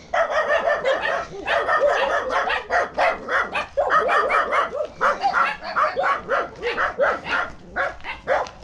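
Several dogs barking close by on a village road in the Philippines, a continuous jumble of overlapping sharp barks and yips in rapid bursts with brief gaps, loud and near.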